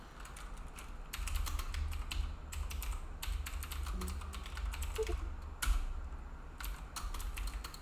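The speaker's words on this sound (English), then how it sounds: "I'll have to type it down." Close, steady typing on a computer keyboard runs for several seconds, quick soft key clicks in irregular bursts over a low background hum, with no speech.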